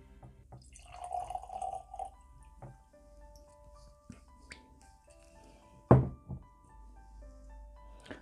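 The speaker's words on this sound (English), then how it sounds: "so let's start by pouring a dram." A dram of Loch Lomond 12-year-old whisky is poured from the bottle. Faint bottle and glass handling, a brief liquid trickle and a sharp clink as glass meets a surface are heard close by in a quiet room.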